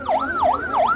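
An ambulance siren with its wail on, trying to pass road blockades in Guatemala, sounds loud and close, sweeping rapidly up and down about three times in one second with no voices.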